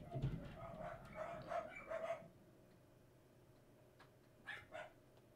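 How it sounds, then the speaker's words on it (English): Several dogs bark in the background, a quick cluster of barks followed by a short pause and two more yaps, faint and somewhat distant. "Dogs returning again."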